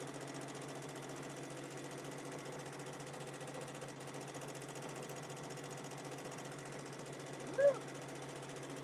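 Domestic sewing machine running steadily through free motion quilting, a continuous mechanical whir with a rapid stitching rhythm, close and moderately loud, with a brief brighter tone near the end.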